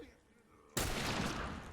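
A single loud rifle shot bursts out suddenly in The Last of Us after a quiet moment, followed by a broad, sustained rush of noise.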